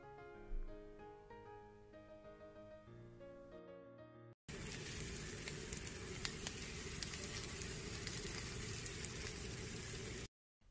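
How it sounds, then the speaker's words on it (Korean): Steady, dense sizzling of a Korean pancake (pajeon) frying in a lightly oiled pan, loud and continuous, preceded by a few seconds of soft piano music. "지글지글지글 파전."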